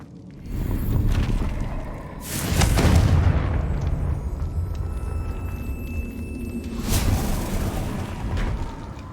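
A Confringo blasting spell explodes in the Hogwarts Legacy video game, with heavy booming bursts near the start, middle and end, each leaving a rumbling tail under a steady low game ambience.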